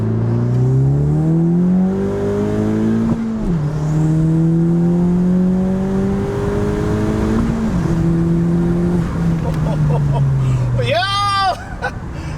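A 10th-generation Honda Civic Si fitted with an upgraded turbo and full bolt-ons accelerates hard, engine note climbing through a long pull with a gear shift partway, loud and close, ending with a turbo flutter as voices talk over it.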